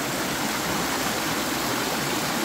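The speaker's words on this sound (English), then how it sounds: "So you hear the water roaring right there." Village river in Jamaica, its water roaring in a steady, loud broadband rush like a stream or small waterfall, continuous and close with no talk over it.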